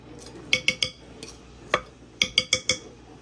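A metal utensil scrapes and clinks against a pan while breaking up sausage, in two quick bursts of three to four sharp taps separated by a single tap, close and clear with no talk.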